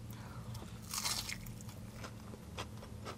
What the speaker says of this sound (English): The batter on the outside is so crispy and crunchy